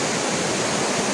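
Water rushes at Baliya dam during the monsoon, a loud, dense and continuous roar of flowing water with no voices over it.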